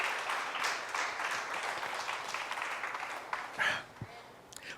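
A church congregation applauding during a sermon, a dense spread of clapping that carries on steadily and then thins out near the end, with a faint voice.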